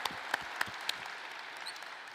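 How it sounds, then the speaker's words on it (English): Scattered applause from a small group of players at a basketball practice, with a few sharper individual claps standing out over a steady patter. "Give him a round of applause."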